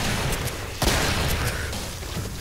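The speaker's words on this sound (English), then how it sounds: "It's like a rocket shotgun." A shotgun fires in the zombie shooter Killing Floor, one sharp heavy blast partway through over a constant loud din of game noise.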